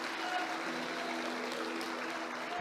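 A church congregation during a sermon applauds in a soft, continuous wash of clapping that sounds distant, with a faint sustained tone underneath.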